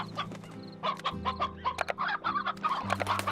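Stony hens in the video game Slime Rancher cluck in quick, bobbing bursts over a low steady game hum, close and moderately loud, with no talking.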